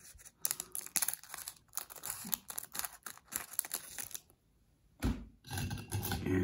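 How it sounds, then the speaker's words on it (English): Scissors cut open a foil Magic: The Gathering booster pack, close-up crinkling and snipping in irregular bursts, a brief quiet gap, then more rustling of the wrapper. "let's open it up and get the scissors here"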